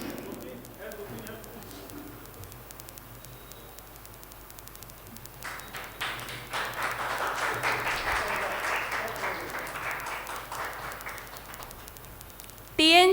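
Audience applause at a Gorakhpur poetry gathering honouring a guest with a shawl, rising from a quiet start into sustained clapping for several seconds.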